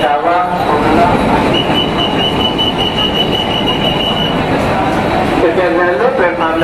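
Loud bustle at crowded Prayagraj Junction railway station during the Maha Kumbh Mela, with a train rumbling and a long metallic wheel squeal over a crowd of voices.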